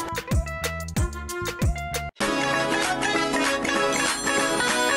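A mobile phone ringtone plays loudly and close, a melodic electronic tune that repeats a short phrase, then switches abruptly to a fuller, busier musical passage, with no talking.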